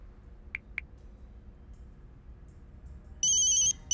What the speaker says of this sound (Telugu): కళ్యాణ్ కాల్ చేశాడు